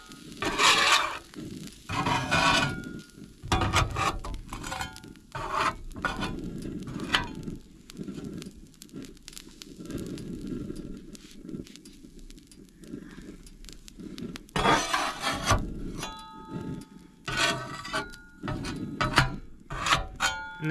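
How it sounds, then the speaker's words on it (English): A metal spatula scrapes a Blackstone griddle during cleaning in repeated rough rasping strokes, loud and close, with bursts separated by short quieter pauses. "Come in, scrape, scrape, scrape."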